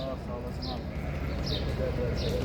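Sheep or goat bleats, likely dairy goats, at a busy small-livestock market in Çorum, sounding several times as short high calls over a dense crowd murmur and talk.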